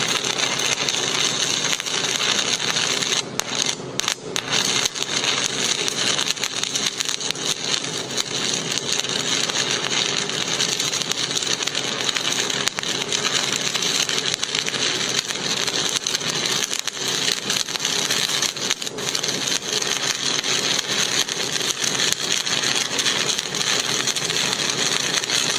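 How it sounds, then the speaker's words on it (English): Steady crackling hiss of a stick welder arc running too cold at low amperage, continuous and fairly loud with a few brief dropouts. "Notice the weak arc."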